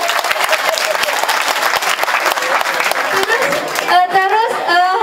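An audience bursts into loud, continuous applause, dense clapping from many hands filling the space, with cheering voices and chatter rising over it toward the end.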